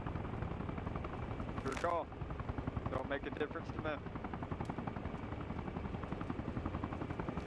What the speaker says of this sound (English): There's so many helicopters flying back and forth.